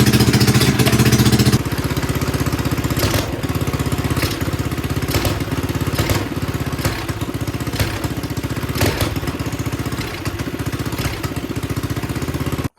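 A mini bike's small engine fitted with a VM22 carburetor runs loud and close, a steady rough mechanical drone with a louder burst at the start, then an even chugging with periodic surges.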